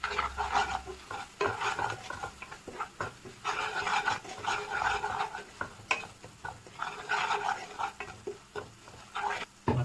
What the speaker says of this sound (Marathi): हे मसाल्याला चांगला आपण पहिले फ्राय करून घेऊया